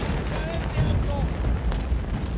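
A distant explosion booms in the first-person shooter Battlefield 1, a low rumbling blast spread under steady game noise and background battle sounds.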